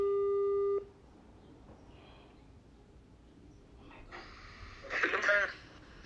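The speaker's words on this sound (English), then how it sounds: "Did it ring? It's ringing." A telephone ringback tone heard while placing a call, with one steady electronic tone lasting under a second, then quiet room noise and a brief burst of breathy vocal sound near the end.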